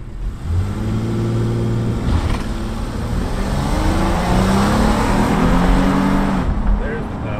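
A car on Nexen Roadian GTX all-season tires launches from brake torque with traction control off, the engine revving loudly and rising steadily through the gears, close and continuous.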